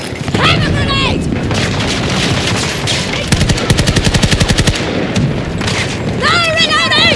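A grenade blast and gunfire in the video game Battlefield 2042, heavy booms and a steady stream of rapid automatic shots, loud and close, with voices calling out over the din.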